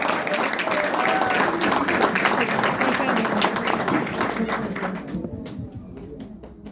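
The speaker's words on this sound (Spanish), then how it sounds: "Un aplauso para Lara." Audience applause after a book presentation at a university humanities faculty, a dense run of clapping that holds steady for several seconds, then thins and fades at the end as a few hands keep going.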